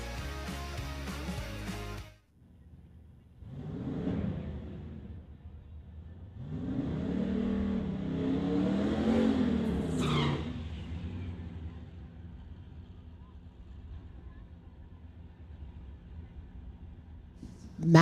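A 1979 Chevrolet Camaro makes an eighth-mile drag racing pass, its engine rising in a loud rev that swells and fades over several seconds, with a commentator's voice talking over it.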